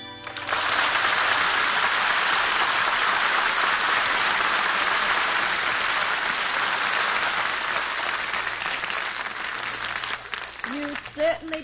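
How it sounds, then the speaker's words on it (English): Audience applause for a performer named Dean, loud sustained clapping from a crowd that fills the moment and fades slightly near the end, when a voice begins speaking. "Deserve that applause"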